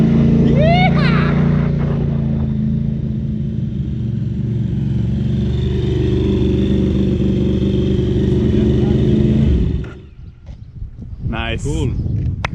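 A KTM 950 Rally motorcycle rides past with a steady, loud engine drone that cuts off near the end, while people shout and talk excitedly over it.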